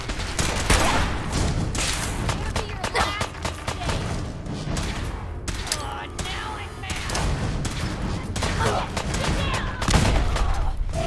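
Dense, loud gunfire fills a Fallout 4 firefight, with rapid overlapping shots and heavy thuds running continuously from start to finish.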